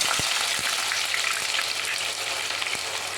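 Steady sizzling of mustard seeds and urad dal spluttering in hot oil for fish curry, with a few soft pops and crackles scattered throughout, close and continuous.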